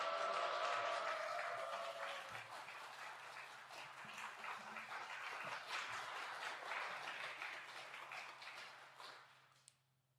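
A church congregation at a Sunday afternoon service claps to welcome a pastor to the front. The applause is a dense, sustained patter that rises, holds, then tapers off and stops.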